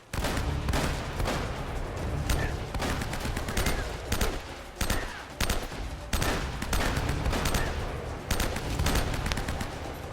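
Dense enemy gunfire from Uncharted: Drake's Fortune, loud and nearly continuous over ten seconds, with sharp repeated shots layered over a heavy low rumble and brief dips between bursts.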